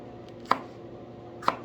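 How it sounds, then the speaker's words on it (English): Two sharp knife chops on an onion against a cutting board at home, spaced about a second apart, close and crisp with quiet between them. "before I start cutting that onion"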